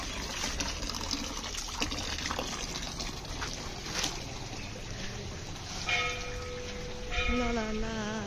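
Water runs steadily from a hand-washing tap outside a temple, making a continuous faint trickle and splash. Bells ring and voices and singing come in near the end.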